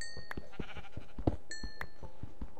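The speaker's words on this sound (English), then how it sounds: "that's the sheep above me" Sheep in Minecraft bleat twice in short, bright calls over a quiet, regular thudding of footsteps or digging, with no talk.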